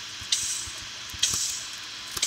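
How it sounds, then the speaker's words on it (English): Minecraft player character burning, heard as recurring soft hissing crackle bursts in a steady game-sound bed, three brief sharper flares standing out at moderate level with no talk. "That's the sound of me burning."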